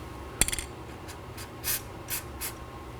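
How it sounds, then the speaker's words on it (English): Several short hissing bursts of anti-seize spray onto inner tie rod threads of a Chevrolet Equinox, close and fairly quiet, spaced about half a second apart after a brief tap. "Now I'm going to spray some anti-seize on the rest of the inner tie rod threads."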